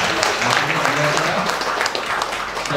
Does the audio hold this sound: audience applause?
yes